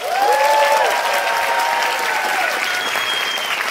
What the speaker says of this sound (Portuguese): E já recebo com aplausos a nossa primeira Ariana Nucci.